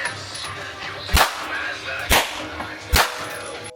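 Three sharp handgun shots crack out at a shooting range, spaced about a second apart, each loud and close with a brief echoing tail over steady background noise.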